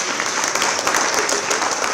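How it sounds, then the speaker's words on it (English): Dense, continuous clapping from a large audience at a university anniversary celebration, sustained and fairly loud with no talking. "May we please give him a round of applause."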